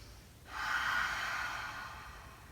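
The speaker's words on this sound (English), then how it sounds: "Let's take a breath in through the nose and a breath out through the mouth." A single steady breath is drawn in through the nose during a yoga pranayama session, soft and close, lasting about a second and a half in a quiet room.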